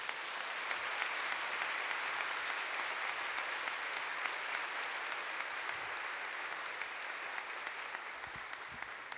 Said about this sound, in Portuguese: Então vamos aplaudir o Senhor.